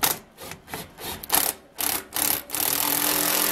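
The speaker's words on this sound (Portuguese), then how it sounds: "Agora ele vai pegar a chavinha e vai colocar" Power screwdriver driving a screw into an acoustic roof tile during carpentry work, giving a close buzzing whir in several short bursts that ends in a longer steady run.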